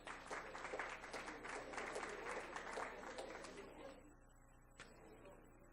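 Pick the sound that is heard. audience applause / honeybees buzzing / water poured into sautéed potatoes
audience applause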